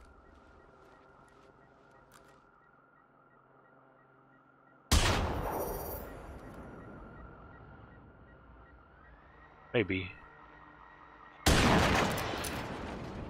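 Quiet electronic tones from the video game Generation Zero are broken by sudden bursts of heavy gunfire, one short volley midway and another loud burst at the end; a voice speaks briefly.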